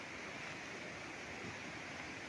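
Clean water flowing steadily along a farm irrigation channel beside a stream, a soft continuous rushing wash heard alone at low level.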